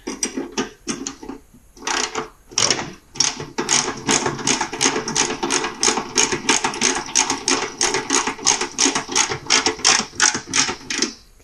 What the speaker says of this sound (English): I want to get all the bolts in before I start tightening anything down.